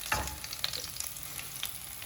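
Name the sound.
garlic and green chilli frying in a pan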